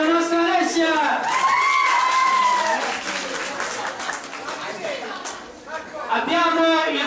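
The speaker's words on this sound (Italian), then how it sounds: "Allora, Antonio, Saviano, un applauso!" Applause from a crowd at a summer camp gathering, steady clapping that tapers off in the middle and resumes, with a voice speaking over it at the start and end.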